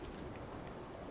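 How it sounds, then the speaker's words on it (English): A video game storm: steady rain with a low thundery rumble, a continuous faint wash of noise with no speech. "Not liking the storm though."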